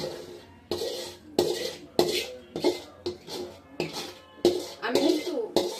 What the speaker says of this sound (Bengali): চিকেনটা দিয়ে দিচ্ছি বাকি চিকেনটা আর কি এবার ঝোলটাও দিয়ে দিচ্ছি